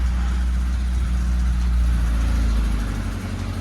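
A barn-find Mk2 Golf engine runs steadily, loud and close, with a low rumbling drone as the car moves off in gear; a constant mechanical hum with no speech.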